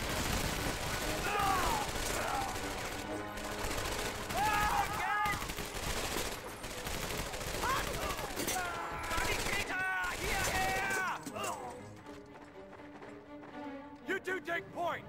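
Suppressing gunfire in the World War II shooter Medal of Honor: Vanguard, dense continuous rifle and machine-gun bursts under shouted soldier voices, tapering off to quieter scattered shots at the end.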